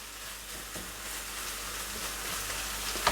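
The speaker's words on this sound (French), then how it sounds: "une fois que la viande est presque cuite, on y met donc le persil plat, donc ciselé." Minced meat frying in a pan with chopped flat parsley, a soft, steady hiss of sizzling fat close by, with faint stirring scrapes and a brief clink near the end.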